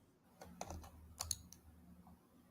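Typing on a computer keyboard during live stock trading: scattered, uneven key clicks and taps, close by and moderately quiet, with no talk.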